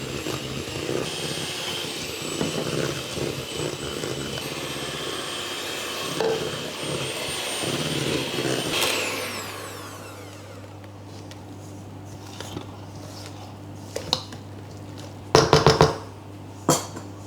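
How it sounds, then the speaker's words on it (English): An electric hand mixer beats fruit cake batter, a steady whirring drone for about nine seconds before it cuts off, followed by quieter rattles and a few clattering knocks. "I'm doing this with a hand mixer, I'll just add a little bit at a time and beat in well between"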